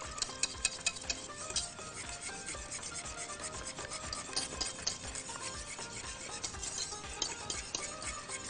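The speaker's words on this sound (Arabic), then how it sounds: "وهفضل اقلب لغاية ما الخليط يغلي" Spoon stirring a cream caramel mixture of cream, milk powder, whipped cream powder, caramel powder and water in a pot on the stove, a steady close scraping and rubbing that keeps going with no talk.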